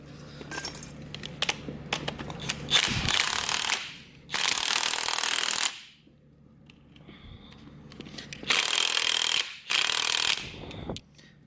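A nut spins down onto a wheel stud during a Toyota JZX90 wheel bearing job, heard as several bursts of close ratcheting power-tool whirr between quiet pauses.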